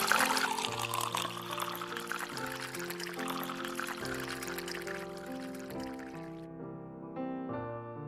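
Water pours into a drinking glass in a steady stream that slowly fades, set against soft sustained background music, with no talk.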